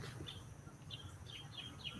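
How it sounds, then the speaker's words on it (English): Birds passing close by outdoors in the morning, giving a series of short, high chirps spaced across the moment over a steady low rumble of background noise. "those birds just passed very closely"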